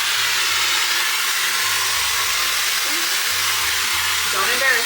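A hair dryer runs at full heat and full air, giving a loud, steady, close airy roar that holds unbroken and even throughout.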